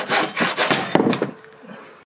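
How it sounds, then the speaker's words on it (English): A hand saw cuts through a wooden board for a homemade hangboard, with steady rasping back-and-forth strokes close by, slowing toward the end before falling silent. "How's that sawing going? Harder than yesterday."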